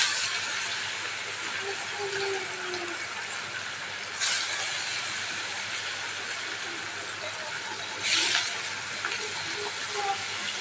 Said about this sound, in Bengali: এবার ভেলা মাছগুলো এক এক করে দিয়ে দিচ্ছে ভাজার জন্য।